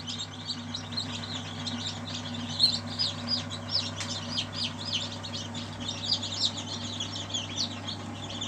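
Many small newly hatched chicks peep and cheep continuously, a busy overlapping chorus of high chirps close by, with a low steady hum underneath.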